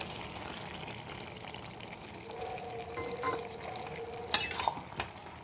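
Milk is poured into shukto, a Bengali vegetable dish, cooking in a pan, giving faint sizzling and stirring followed by a short liquid splash and clatter near the end, with no talking.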